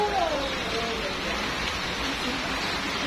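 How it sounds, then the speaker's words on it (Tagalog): Rain falls steadily outdoors in a close, even patter, with a faint voice briefly audible beneath it. "Raining. Rain."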